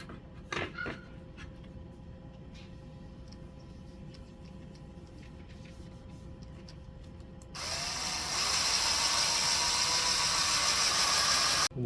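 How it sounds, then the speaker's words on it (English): A power buffer polishes the fog light lenses of a 2006 BMW E90 330i, with rubbing compound on its pad. A low, quiet rumble gives way partway through to a loud, steady, close-up whir that runs to the end. "now let's buff out the fog lights"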